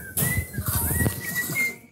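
A man whistling to call a tame bird, thin sliding whistle tones over a bustle of nearby soft thumps and rustles, fading at the end.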